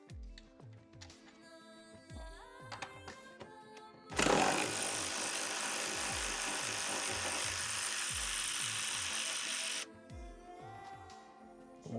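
Ratchet wrench working a bolt loose on a BMW E46 M3 under rust repair, with repeated clicking strokes, then a long loud grinding burst of about six seconds, followed by more ratcheting clicks close by.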